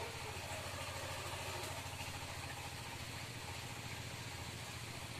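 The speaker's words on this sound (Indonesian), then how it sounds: "ini mesin dihidupkan dengan maksud mau diangkat, namun juga sudah tidak sanggup." The engine of a well-drilling machine runs steadily during well construction, a close, loud, even mechanical drone with a fast throbbing pulse that continues without pause and has no voices over it.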